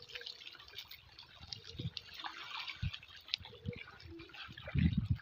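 River water splashes and drips as a fishing net is cast in the Sundarbans, a soft, steady wet trickle with a heavier low splash near the end and no talking.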